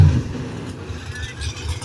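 Alcohol-fuelled drag race cars, including a 1990 Mustang, accelerate with a loud, steady low engine roar that opens with a strong burst and stays level, with a commentator talking over it.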